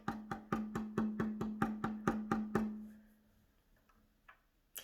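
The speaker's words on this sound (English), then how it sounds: "He kind of makes like a tapping sound, right?" Rapid, evenly spaced wooden taps, about a dozen in a steady rhythm, then they stop, leaving quiet with a couple of faint knocks.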